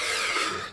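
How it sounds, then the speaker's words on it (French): One short, breathy cough from a person during a solo tabletop game session of Tiny Epic Cthulhu, close and sudden, then fading out. "Pardonnez-moi pour la toux,"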